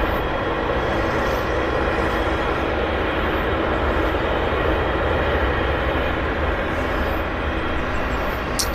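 A jet airliner rolls past at Vancouver Airport, a loud, steady broadband engine roar that holds at nearly constant level for about nine seconds with no talking over it.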